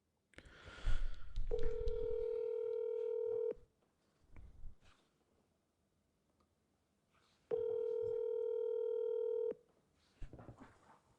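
Two identical steady telephone tones sound alone in a quiet line, each holding for about two seconds with a pause between, followed by short faint rustles and clicks.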